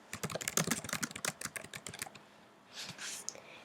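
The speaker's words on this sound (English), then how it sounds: "Here's where I can type my title." Rapid clicking of fingers typing on a computer keyboard, a quick irregular run of close, soft keystrokes followed by a short pause and a faint shuffle.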